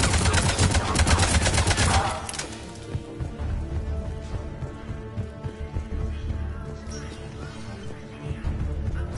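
A dense burst of rapid automatic gunfire in Mass Effect 3 opens the clip, then gives way to scattered shots and clatter beneath quieter game ambience.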